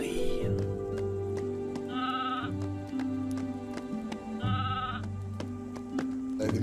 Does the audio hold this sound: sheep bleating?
yes